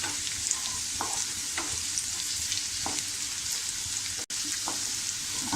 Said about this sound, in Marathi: हे व्यवस्थित आपण एकदम छान परतून घेऊया।